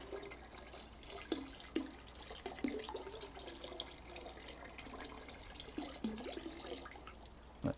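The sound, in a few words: yeast mixture being mixed into barley water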